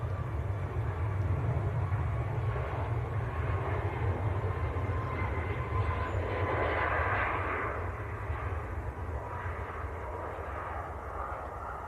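TUI airliner bound for Tenerife on its takeoff roll at Manchester Airport, a distant low engine roar swelling and then slowly fading, steady and unaccompanied by talk.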